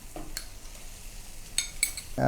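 Finely chopped lemongrass, about a teaspoon, goes into a sizzling pan of Vietnamese noodles and is stirred, with a few sharp utensil scrapes and clinks over a low fry hiss, close by.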